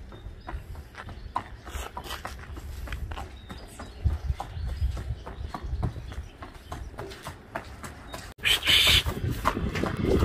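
Steady clip-clop of horse hooves on pavement, a regular rhythm up close, with a brief burst of higher noise near the end.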